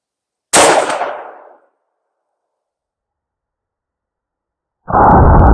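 A Taurus Tracker .44 Magnum revolver fires one loud, sharp shot up close that decays over about a second, followed by silence and then a sudden dull noise near the end.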